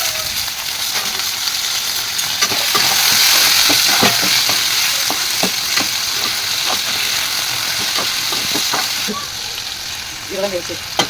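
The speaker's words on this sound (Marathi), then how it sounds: "बटाटे फ्राय करून टाकतो." Potatoes fry loudly in hot oil with cumin seeds and curry leaves, a dense continuous sizzle with intermittent stirring scrapes, easing slightly toward the end.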